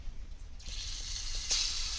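Fish frying in oil in a pan over a village wood-fired clay stove outdoors, giving a steady close hiss and crackle with a brief louder sizzle burst near the end.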